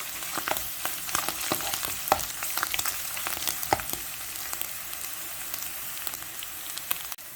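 Grated garlic frying in oil in a pan, a dense steady sizzle dotted with sharp pops and crackles, close up with no one talking.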